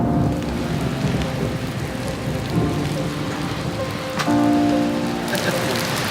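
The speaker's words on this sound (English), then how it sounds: "Normally it doesn't rain torrentially like this" Torrential rain pours hard and steadily, drumming loudly on a surface close by, with a dense continuous hiss and occasional heavier thumps through the downpour.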